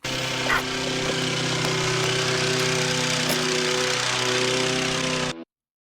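A small lawn mower engine runs steadily and close, its buzzing drone holding at even volume for about five seconds before cutting off abruptly into silence.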